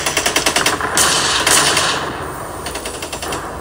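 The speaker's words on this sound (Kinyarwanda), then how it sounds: "Nguko uko byiriwe mu murwa mukuru hafi ya Goma Isake, ubwo imbunda n'amasasu bikomeje kuvugwa muri rusange" Rapid automatic gunfire near Goma in eastern Congo, bursts of sharp close shots rattling in quick rhythm, with a louder sustained roar between volleys and no voices.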